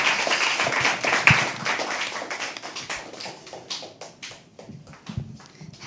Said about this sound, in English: Together, let's start clapping.